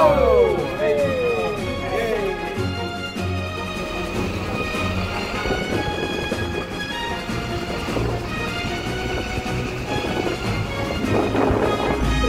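A low floor bus engine rumbles steadily with low droning tones and rising whine as it pulls away, continuous and fairly loud throughout.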